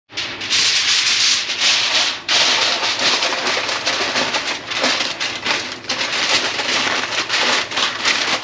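Aluminum foil crinkling and rubbing as it is pressed over a beef roast pan with vegetable broth, a close, continuous rustling with brief pauses and no talk.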